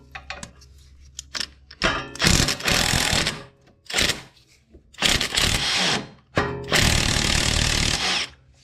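A power tool drives a 5 mm Allen bit on a Ford Focus lower control arm bolt, firing in several loud, close bursts of whirring and rattling with short pauses between them.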